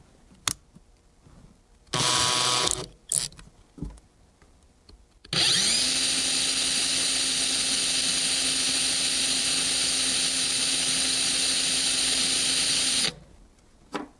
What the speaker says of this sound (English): I'll go to the drill.